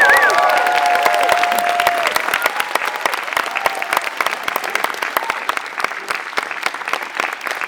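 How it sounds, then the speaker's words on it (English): A cinema audience at an IMAX Q&A in Leicester Square, after a Dune double-bill screening, applauds loudly as the director comes on. Dense, steady clapping fills the room, with whistles and cheers at the start, easing slightly but continuing throughout. "Make some noise for Denis Villeneuve."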